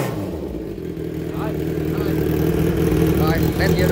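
A motorcycle with a rebuilt, louder Austin exhaust pipe idles and then revs, a steady close engine rumble that rises in loudness toward the end, with someone talking over it.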